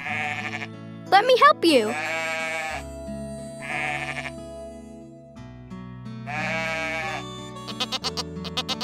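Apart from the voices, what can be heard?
sheep bleating at farm animal sanctuary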